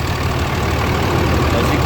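A 2003 Ram 2500 with a Cummins diesel engine, six-speed and aftermarket exhaust, idles loud and close with a steady low rumble and faint clattering knock, no voices present.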